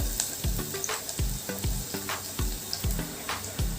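Vegetables sautéing in a pan for soup sizzle loudly and steadily, with repeated rhythmic spatula strokes knocking against the pan, close up with no talk.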